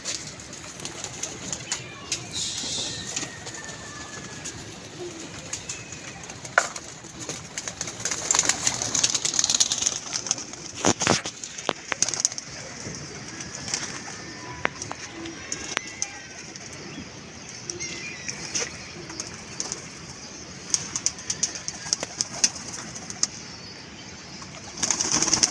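A captured pigeon coos softly and flaps its wings in bursts, close by and outdoors, over a steady background hiss, with a brief flurry of wing beats in the middle.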